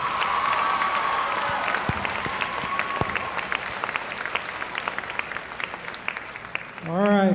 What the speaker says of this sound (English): Another round of applause for our valedictorian.